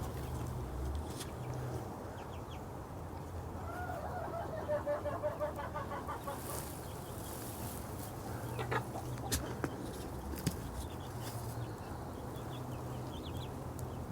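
Chickens and newly hatched chicks in a backyard setup cluck and cheep softly at moderate distance over a steady low background hum, with no talking.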